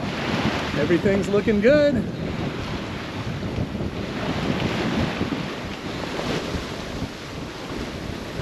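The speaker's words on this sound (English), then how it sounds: "Light winds today. Only about 10 knots of true wind." Wind buffeting the microphone and waves washing against a sailboat on a light-wind crossing from St Croix to St Thomas: steady rushing gusts and surf throughout, with someone speaking briefly early on.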